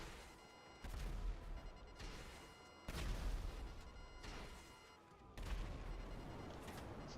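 A heavy, rumbling barrage of explosions from the video game GTA Online bursts out in several loud waves, each blast decaying into a sustained roar before the next one hits.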